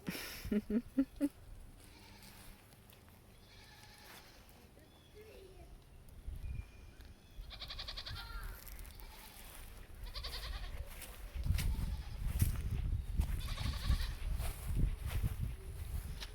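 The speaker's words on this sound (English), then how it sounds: "A happy goat's a munching goat." Homestead goats bleat in short calls amid a quiet outdoor setting, with soft munching and shuffling noises building toward a louder stretch near the end.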